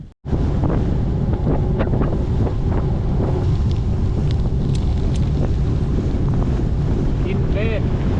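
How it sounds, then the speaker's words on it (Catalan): Strong wind roaring over the microphone at a snowy ski station in the mountains, a loud, continuous buffeting rush that lasts throughout with no break. "Quin vent!"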